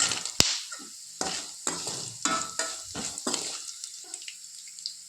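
Peanuts, curry leaves and cashews fry in a hot pan for wheat rava upma, giving short bursts of sizzling and stirring that come and go in irregular spurts, close and fairly quiet.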